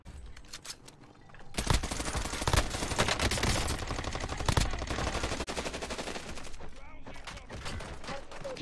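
Call of Duty Warzone battle royale crossfire: dense, loud bursts of rapid automatic gunfire and overlapping shots rattling almost continuously after a quieter start, with scattered single cracks and game noise.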